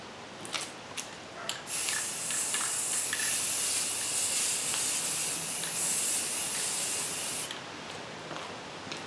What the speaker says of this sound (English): I think it needs another spray from another direction